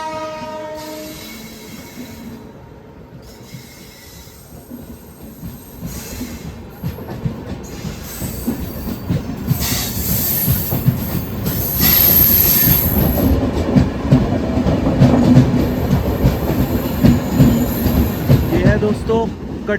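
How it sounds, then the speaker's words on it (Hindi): The Katihar–Amritsar Amrapali Express, a crowded train running late, passes close by: a horn blares early, then a loud rolling rumble of wheels with squealing and clattering that builds and stays strong as the coaches go by. "ये है दोस्तों कटिहार अमृतसर आम्रपाली एक्सप्रेस"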